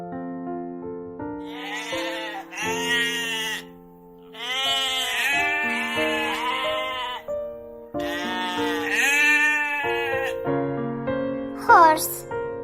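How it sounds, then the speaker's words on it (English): Sheep bleating in a series of loud, wavering calls, several distinct bleats spaced across the stretch with short pauses between, close and clear, with one higher cry near the end. "Sheep."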